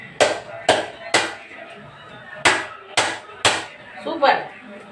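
Layers of coconut, flour and sugar are patted down by hand in a pot, giving seven sharp dull pats in an uneven rhythm, close and fairly loud, with faint background sounds between them.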